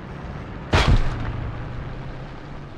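A single tank cannon shot in War Thunder, a sharp loud blast with a short rumbling decay over a low steady engine hum, alone with no talking.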